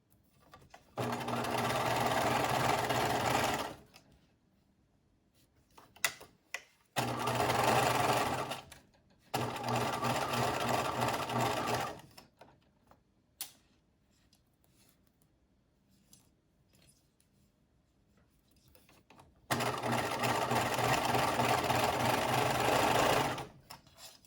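Sewing machine stitching stretched elastic onto a knit waistband, four steady humming runs of about three to five seconds each, separated by quiet pauses with small clicks and handling noise.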